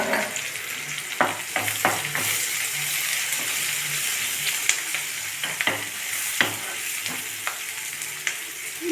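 Curry sizzling and being stirred in a pan as turmeric goes in, for a Telugu-style cucumber, drumstick and tomato dish; a steady frying hiss runs throughout with scattered clinks and scrapes of the spoon against the pan, no talking.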